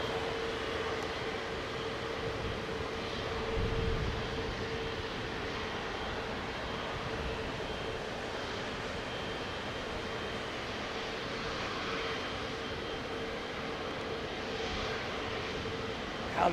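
A Boeing Dreamliner flies low on approach to Heathrow, giving a steady, fairly faint rumbling drone of jet engines that holds evenly without a clear peak.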